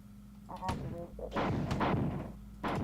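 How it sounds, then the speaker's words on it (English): Grenades burst in the classic shooter Marathon, several heavy booming blasts in quick succession with rumbling tails, loud and close, no voices. "Guess I should just start lobbing grenades in."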